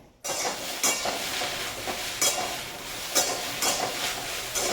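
Okra frying in a pan, a steady close sizzle with hissing crackle, broken every second or so by brief louder bursts that sound like stirring.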